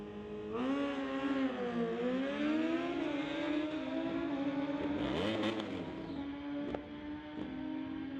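Two drag-racing motorcycles, a 2003 Monster bike against a 2007 ZX-14, roar down a street-legal strip, their engines screaming in a loud, continuous whine that rises and falls in pitch as they accelerate and shift.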